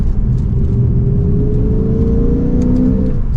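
Loud, close engine of a 2023 Lexus IS 500 F Sport droning steadily while downshifting into third gear for a turn on a test drive, its pitch sliding, with a constant rumble and no voices.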